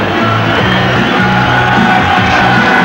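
A big boxing-arena crowd roars and cheers loudly and steadily as a fighter is presented ringside before the Ray Leonard v Roberto Duran bout, with whoops and yells in a dense wall of noise.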